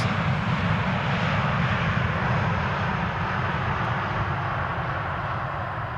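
Engines roar as a large airliner lands, a loud, broad, continuous rumble that eases slightly over the span, with no voices.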